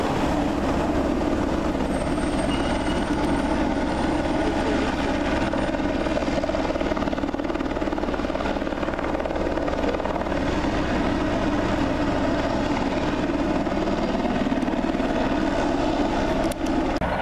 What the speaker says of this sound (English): there's a giant helicopter flying over us